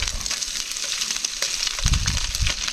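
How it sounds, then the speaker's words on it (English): Spam fries in a dash of oil on a camp cooker, a steady dense sizzle with crackling spits and a louder low burst near the end, close up and with no talk. "Dash of oil just to fry this Spam up."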